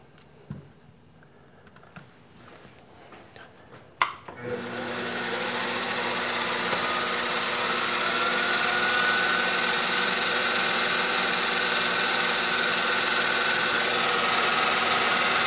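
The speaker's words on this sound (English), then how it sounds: "this drill is going to run at 1200 RPM" A drill press running at 1200 RPM while making a toolpost clamp for a toolpost grinder starts after a few light clicks and handling sounds, then settles into a steady, close machine whir with a faint high whine that holds to the end.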